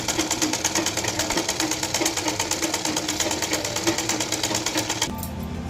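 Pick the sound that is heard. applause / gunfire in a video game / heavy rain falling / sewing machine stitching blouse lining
sewing machine stitching blouse lining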